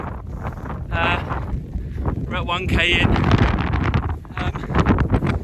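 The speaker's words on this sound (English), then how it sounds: "Oh, it's so windy." Strong wind on a cold day buffets the microphone in a steady roar while a person speaks briefly over it, with footsteps and movement beneath.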